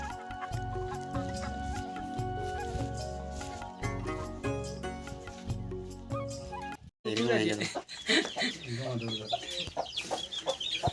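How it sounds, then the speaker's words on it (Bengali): Chickens cluck and chatter nearby over steady background music, then the music drops out and the busy clucking continues in short, repeated bursts. "দেখুন বিরাট সুন্দর মুরগ ভালো মুরগি আছে"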